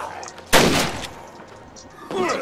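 Gunshots fire in the zombie survival game State of Decay: Lifeline, a loud blast near the middle trailing into a rough echo, with a second burst at the end and faint talk underneath.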